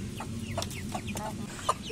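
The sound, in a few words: chicken clucking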